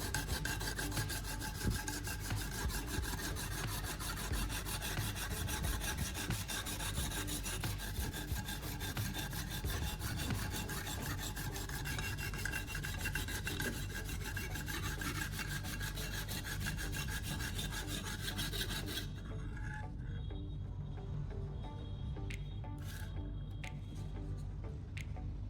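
A knife blade is stroked steadily across a sandpaper sharpening block, giving a continuous close rasping rub that runs unbroken for most of the span before easing off near the end.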